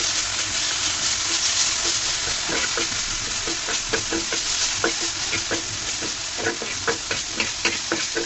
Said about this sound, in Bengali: এরপর যে থানকুনি পাতাটা একটু নেড়ে চেড়ে নিব, শুধুমাত্র একটু তেলে নিব